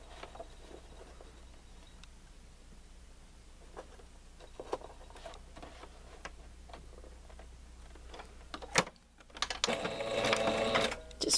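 A sewing machine running a zigzag stitch down fabric garter elastic, with rapid ticking needle patter in short bursts, some clicks and handling noise, then a louder, denser stretch of stitching at the end.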